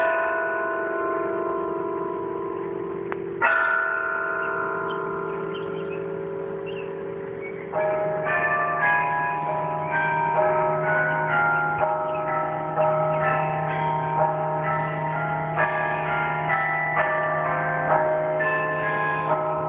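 Carillon bells of Century Tower ring out in an outdoor concert, heard from outside the tower as sustained, overlapping bell tones forming a melody, with a brief pause before a fuller, busier passage.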